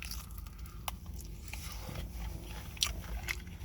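A bite into a crunchy KFC Nashville-hot waffle sandwich, with a few crisp crackles up close over a quiet background hiss.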